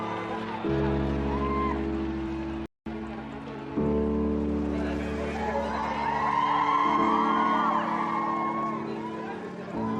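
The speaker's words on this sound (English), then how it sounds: "Everyone was screaming, trying to get the pictures and videos." A crowd outside St. Mary's Hospital screams as the royal family emerges with a newborn baby. High, overlapping shrieks and whoops swell in the second half over a steady droning tone, with a brief dropout early on.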